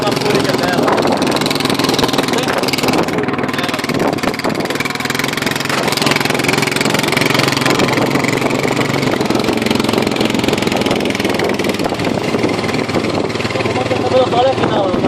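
A Honda Fourtrax 4x2 quad bike engine runs steadily and close by for the whole stretch, with a constant mid-pitched idle drone and a slight unevenness, as faint voices talk in the background.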